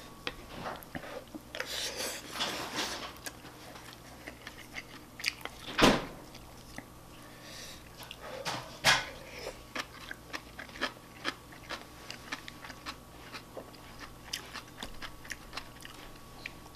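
Someone chews shrimp fried rice close up, including crunchy shrimp shell. Soft, irregular mouth sounds are punctuated by a couple of sharper crunches against near silence.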